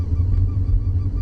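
A rhythmic, honking squeak from the failing center support bearing of a 2000 BMW M5 rides over a deep, constant drivetrain drone, repeating several times at close range without any voices.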